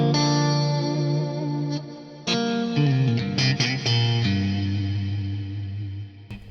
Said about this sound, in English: we have another reverb block which is on a Nimbus Stratus setting, and it's for some ambient tones